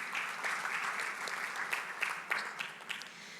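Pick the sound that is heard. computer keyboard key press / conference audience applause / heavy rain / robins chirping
conference audience applause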